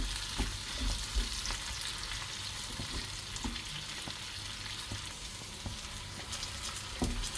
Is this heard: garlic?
yes